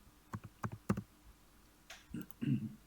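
Several quick, faint computer mouse clicks, including a rapid double-click, during spreadsheet work in a quiet room, followed by soft low-pitched sounds.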